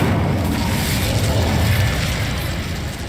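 An Incendio fire spell cast in the Hogwarts Legacy video game, a continuous loud whooshing, roaring burst of flame with deep rumbling low end, sustained evenly for about three seconds with no talk.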